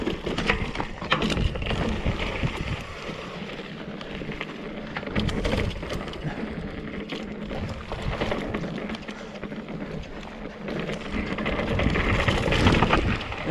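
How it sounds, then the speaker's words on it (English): A steel hardtail mountain bike with a long front and rear end rides down the steep Broken Arrow Trail, giving steady rolling tire rumble, rattling and wind rush throughout. "now we're gonna ride down the Broken Arrow Trail"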